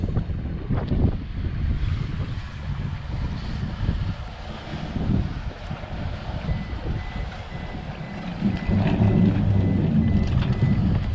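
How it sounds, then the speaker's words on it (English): Boat engine at a slipway giving short bursts of throttle to nudge the hull onto trailer rollers up to the snubber, a steady low rumble under wind noise that swells louder near the end. "as you can see the engine's still in, a little bit of throttle up to the snubber"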